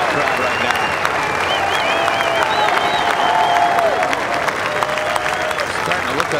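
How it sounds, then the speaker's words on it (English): Sustained applause and cheering from a large golf gallery at Oakmont, 2007 U.S. Open final round, a dense, steady roar of clapping with whistles and shouts throughout. "he's hearing it from this Oakmont crowd right now"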